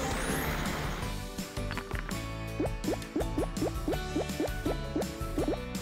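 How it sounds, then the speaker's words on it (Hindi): Warm water fills a small bath for dolls, first a steady pouring rush, then a run of rising, gurgling drips and splashes close by, with no voices. "बेबीज गर्म पानी में नहा रही है।"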